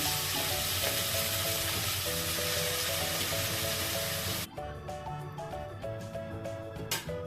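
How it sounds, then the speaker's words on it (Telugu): Malabar spinach leaves frying in oil in a kadai, giving a loud, steady sizzle and crackle that drops back suddenly midway and then carries on more unevenly, with faint stirring. "ఆయిల్లో ఈ ఆకు ఫ్రై చేసుకుందాం."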